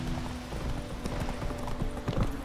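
Galloping hooves of the horse Roach in The Witcher video game, a steady rapid clip-clop rhythm over a low rumbling game soundscape, fairly loud and continuous.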